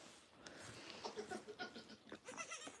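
Goats in a barn holding about 47 animals, including young kids, bleat in a rapid overlapping series of cries at close range, with no talking.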